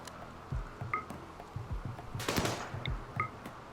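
Rifle gunfire in the video game RimWorld comes as scattered low thuds and quick bursts over a faint game background, with a short, denser crackle of fire in the middle.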